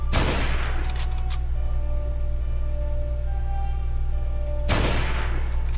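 Two loud, sharp sniper rifle shots, one at the start and one near the end, from a video game rifle remodeled from a Steyr VK98 Mauser-design carbine. Each shot rings out and decays, with a steady hum between them.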